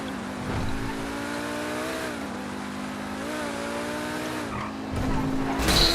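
Pegassi Tempesta V10 supercar in GTA Online, with a 5.2 liter V10 and 7-speed dual clutch, droning at steady high revs with slight pitch dips at gear changes, then tires squeal as the engine surges louder at the end.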